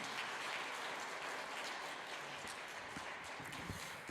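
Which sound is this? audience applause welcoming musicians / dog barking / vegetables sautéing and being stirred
audience applause welcoming musicians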